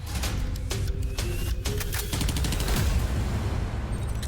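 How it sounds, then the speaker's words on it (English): Weapons fire in Counter-Strike: Global Offensive, on the Nuke map. Loud, rapid bursts of automatic gunshots come close together, with a few sharper single cracks punctuating a continuous barrage. "Weapons in CSGO come in all different shapes and sizes, and they make all kinds of different noises."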